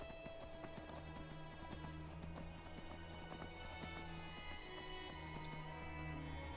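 Horse hooves gallop in a quick, steady clip-clop rhythm, fairly quiet, over a background of soft music, in the video game Skyrim.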